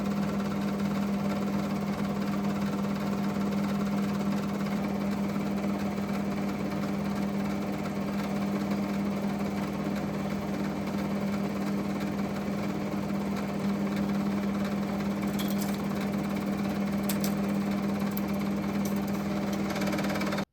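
A film projector runs steadily with thrifted silent home-movie film threaded through it, giving a continuous mechanical whir and flutter with a low steady hum, close and even throughout.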